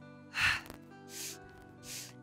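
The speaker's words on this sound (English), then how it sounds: "Breathe in twice and breathe out twice." Three separate breaths of air during a pilates exercise, each a soft rushing burst, the first strongest and the next two fainter, with quiet pauses between and no talking.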